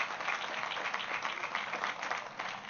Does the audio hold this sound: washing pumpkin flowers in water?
no